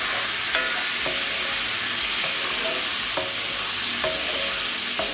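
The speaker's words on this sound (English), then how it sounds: "Next up, we're going to add the white wine." White wine poured into a hot pan for chicken scaloppine produces a steady, loud sizzle, with regular stirring scrapes recurring about once a second.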